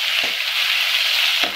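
Curry leaves and coriander sautéing in hot oil for potato kurma, a bright, close hiss holding steady across a short stretch, with a couple of soft stirring scrapes near the start and end.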